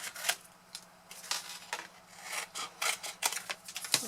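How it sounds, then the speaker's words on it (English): Folded score lines on a cardboard box being burnished, giving a series of short dry rubbing and scraping strokes at close range, irregularly spaced with quiet gaps between them and no talking. "we can now fold those, give them a good burnish, and then we're going to trim the point off."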